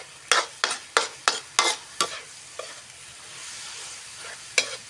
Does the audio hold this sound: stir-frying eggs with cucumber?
yes